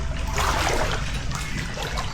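Floodwater in a flooded village in Kota Samarahan, Sarawak, spilling over its banks and running into a house, heard as a steady close trickling and splashing flow with a low rumble underneath, continuous and fairly loud throughout.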